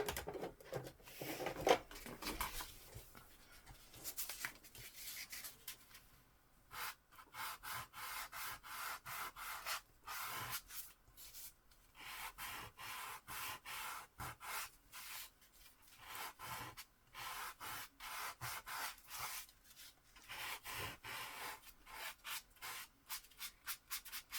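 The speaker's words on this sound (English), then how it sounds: "Now I want my sanding sponge." Rhythmic rubbing strokes of a sanding sponge on a surface, quiet and close, in bursts separated by short pauses.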